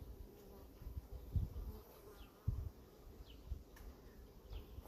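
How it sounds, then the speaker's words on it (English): Insect buzzing from an irritated honeybee during a hive inspection after a brood box was added, a faint, wavering drone that rises and falls over a low outdoor rumble, with a few brief passes close by. "One bee that's just peeved off at me."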